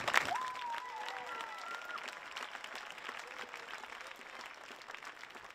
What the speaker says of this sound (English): let's give the entire class 2025 a round of applause.